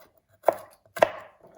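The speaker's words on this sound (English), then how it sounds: "so I'm just chopping the garlic," A knife roughly chops garlic on a cutting board for a spicy bean soup, two crisp close knocks about half a second apart against near silence, with no talking.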